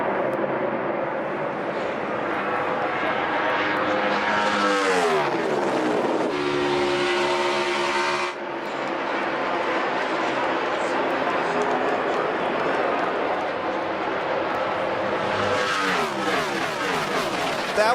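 NASCAR stock cars racing side by side, engines roaring loud and close with rising and falling pitch as they pass, a sustained high whine throughout, under excited race commentary.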